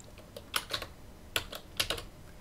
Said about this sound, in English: So I'm going to right-click here, choose New, Folder, and I'll name it Wendy